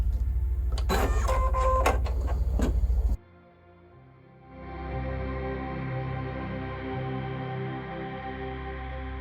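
A Brother 880e embroidery machine finishes stitching a decorative fill design, a loud steady mechanical whir that cuts off abruptly, followed by a quieter hum and then a softer, steady motor drone.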